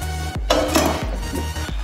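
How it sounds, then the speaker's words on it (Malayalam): A cooking pot gets covered with its lid while rice cooks for a vegetable pulav: a few sharp metallic clanks and knocks, close and fairly loud, over a low steady kitchen hum. "അരിയിട്ട് കഴിഞ്ഞിട്ട് പാത്രം അടച്ച് വെച്ച്"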